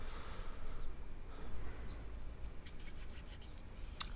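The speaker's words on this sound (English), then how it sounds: "We're just deburring our edge for when we flip it here, so it won't foul the vise." A file deburring the edge of a 3/4-inch steel 4x4 angle iron, giving faint, steady rasping strokes close by, with a few sharper scrapes near the end and no speech.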